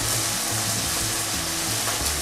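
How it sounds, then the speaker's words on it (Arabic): Chicken fries in a pan with a loud, continuous sizzle, while stirring adds a low, uneven scraping rhythm beneath it. "ونقلب بقى الفراخ"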